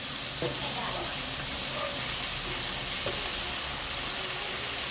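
Chayote and other vegetables fry in a pan for chopsuey, giving a steady, moderate sizzle with a few faint clinks of stirring throughout.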